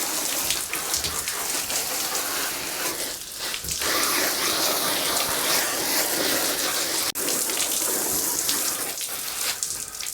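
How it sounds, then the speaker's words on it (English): Motorcycle kit being hosed down with water, a loud continuous hiss and patter of spray hitting fabric that dips once before carrying on, close and with no voices. "let's hose that down"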